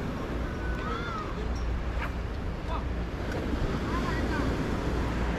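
Rough Red Sea waves and strong wind heard from out on the water, a constant roaring wash with gusty microphone buffeting and occasional splashes, dense and steady throughout.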